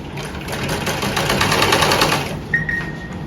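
A sewing machine stitches pieces of a Punjabi suit together in a rapid, even run of stitches that lasts about two and a half seconds and then stops, leaving a faint high whine.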